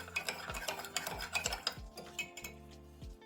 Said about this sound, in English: And I just mix out the brown sugar.